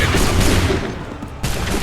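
A musket volley fired by soldiers in Assassin's Creed III erupts as a dense, loud roar of overlapping shots. It fades briefly, then a second burst hits near the end.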